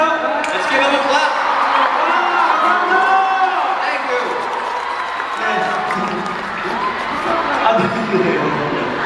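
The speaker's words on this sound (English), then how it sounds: "Let's give them a clap." A large concert crowd at a world tour show in Manila claps and cheers for the staff: loud, continuous applause with screaming, whoops and shrill cheering filling the arena throughout.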